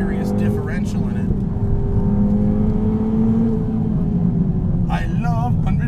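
A Ford Fiesta ST running 100 octane fuel on a pro tune hums steadily from inside the cabin as it climbs a bumpy canyon road, its engine droning and revving beneath intermittent talk.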